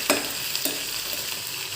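Onion, ginger and garlic frying in a pan, with a steady broadband sizzle and a couple of brief stirring scrapes near the start, moderately loud and close, no voices.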